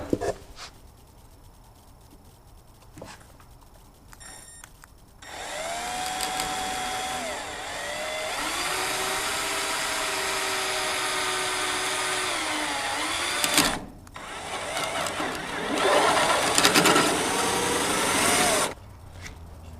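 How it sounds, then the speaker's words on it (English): A power drill bores a hole through old, brittle plastic on a build, a faint whine that spins up, runs steadily for several seconds, stops briefly, then whirs again in a second burst. "drill a hole through that without breaking it"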